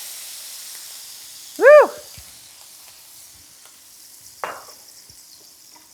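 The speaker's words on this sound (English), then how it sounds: "we're gonna add maybe a 1/4 cup of wine to this pan, and it's gonna make a lot of noise" About a quarter cup of wine poured into a hot pan to deglaze it, bursting into a short loud sizzle and hiss, followed by quieter crackling; a person briefly exclaims.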